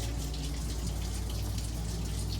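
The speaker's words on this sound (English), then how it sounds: "So you're gonna do 2 cups of warm water." Warm water pours steadily into a cup for pizza dough, making a continuous close splashing rush that holds the same level throughout.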